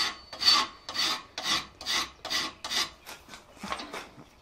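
Metal file rasping across a butcher chasing tool clamped in a vise, about eight rhythmic strokes at an even pace, close and clear with no talk.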